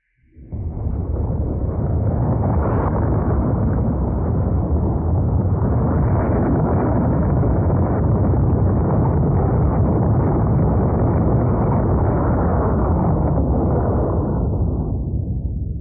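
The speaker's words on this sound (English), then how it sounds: "So satisfying to see a parallel simultaneous launch." Simultaneous rocket launches in the video game Factorio, a sustained loud, dense roaring rumble that swells in quickly, holds steady for many seconds with a reverberant wash and begins to fade at the end, with no talk.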